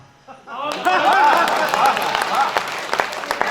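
An audience claps in applause at a spoken Hindi poetry event, a patter of many hands that swells and then thins out, mixed with crowd murmur and a few voices.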